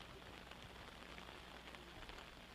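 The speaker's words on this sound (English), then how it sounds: "Rain definitely picking up now." Rain falls steadily at an outdoor varsity boys' soccer game, a faint, even hiss of drops on the surface with no clear voices.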